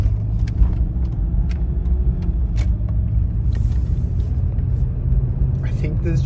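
A truck drives along a street past a pole in the median, its steady low rumble continuous and fairly close, with people talking over it.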